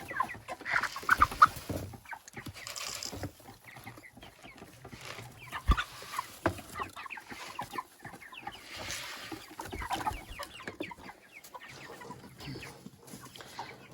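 Young broiler chicks clucking softly with scattered pecking taps at compound feed and rustling, a busy flock nearby at moderate volume, no talking.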